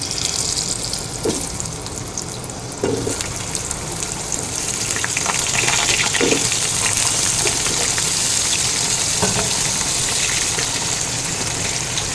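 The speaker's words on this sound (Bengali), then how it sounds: "এবারে এই তেলের মধ্যে আমি আলুগুলো দিয়ে দিলাম।" Potatoes dropped into hot oil in a home kitchen pan, right after eggplant was fried, give off a steady, fairly loud sizzling hiss that runs throughout with a few soft clicks and no talking.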